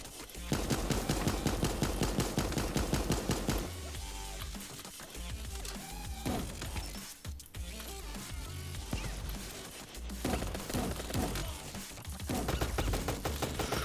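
Uzi fire in Super Animal Royale: loud, rapid full-auto bursts of sharp clicky shots, several long strings broken by brief pauses, dominating the mix with no talk.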